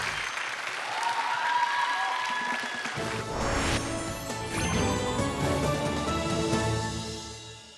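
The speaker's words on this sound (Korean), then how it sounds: "여러분 큰 박수 보내주시죠" An audience at a Korean-language event applauds a King Sejong Institute student from Changchun, China; the applause swells suddenly and stays loud and steady, with a brief voice at the start.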